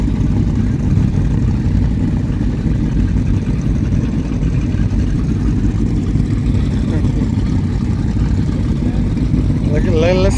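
Motorboat engine idling on a lake near Bobcaygeon, a steady low rumble running throughout with people talking over it.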